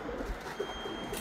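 A racing pigeon home from a 246 km race coos softly in a loft, several low, faint murmuring coos spread through a steady background hum.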